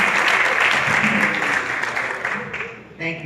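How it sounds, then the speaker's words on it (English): Hearty applause from a church congregation at New Sardis, loud and sustained clapping from many hands that fades slightly toward the end, with a voice briefly rising over it. "Please receive her with a hearty New Sardis applause."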